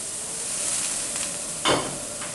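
White wine poured into a hot pan, a steady sizzling hiss that swells into a sharper burst of frying as the liquid hits, close and fairly loud.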